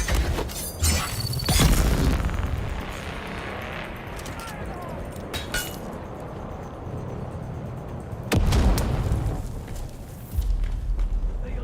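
Grenades explode in the Dune Awakening game, heavy booming blasts near the start and again later, over ongoing game noise with a voice talking.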